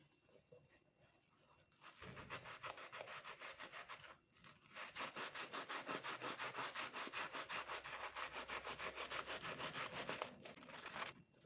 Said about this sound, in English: Now we will polish our shoes with a squeegee and dishwashing liquid.